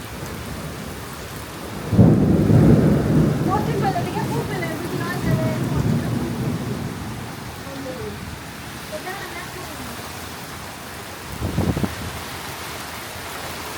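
Heavy rain on a tin-roofed house, a constant hiss with a loud rumble of thunder early and another brief crack near the end, while people talk through the storm.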